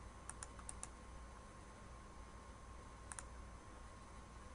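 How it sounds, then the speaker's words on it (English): Computer keyboard arrow keys tapped to nudge objects in Microsoft Word, faint quick clicks in two small bursts, a cluster of four early and a pair later, over a steady low hum, no voices. "I'm using my arrow keys just to kind of nudge."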